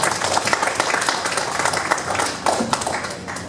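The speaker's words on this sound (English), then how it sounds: "You guys give the panelists a round of applause for coming out." Audience at a panel event on Black male mental health applauds the panelists: dense, continuous clapping from a room of people, fairly loud and sustained throughout.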